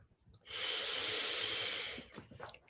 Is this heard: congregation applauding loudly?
no